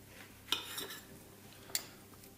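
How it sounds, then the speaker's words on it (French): A knife cuts a base into an orange, giving two sharp, quiet clicks against the cutting surface, spaced about a second apart, with a soft background hush and no talking. "Je vais piquer ici dans mon orange. Je vais couper une base."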